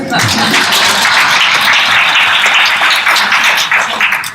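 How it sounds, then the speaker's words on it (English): Audience applause at a speaking event, dense, even clapping filling the room for several seconds, loud and sustained with a slight fade at the end. "I believe that does deserve an applause"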